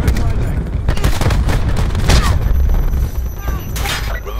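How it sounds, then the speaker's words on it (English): Cluster grenade blasts in the shooter game Call of Duty Black Ops 4, a loud rolling series of booms and crackling explosions in close succession with dense battle noise throughout. "Cluster grenade."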